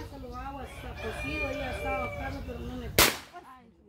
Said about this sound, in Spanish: ¿Y por qué suenan los cohetes,